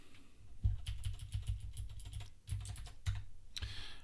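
Quick bursts of keystrokes on a computer keyboard as a username is typed, an irregular close-up clatter with brief pauses between runs.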